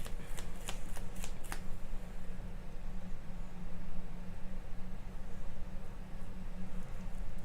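A Magic: The Gathering card deck is shuffled in a rapid series of crisp riffles early on, then settles into a steady soft rustle over a low background hum, with no talk.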